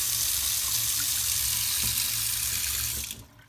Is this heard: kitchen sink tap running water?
yes